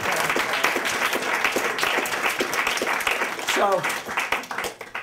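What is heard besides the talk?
audience applause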